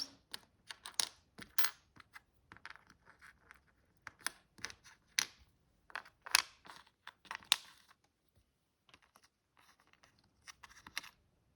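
Small divination charms are turned over and shuffled on a table, giving a close, quiet run of light clicks and rattles in irregular bursts with brief pauses between.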